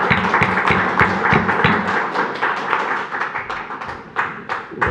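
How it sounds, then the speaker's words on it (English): Audience members at a Royal Oak city commission meeting clap in a brisk, uneven burst of sharp hand claps nearby, thinning out toward the end, with some chatter underneath. "We'll save applause."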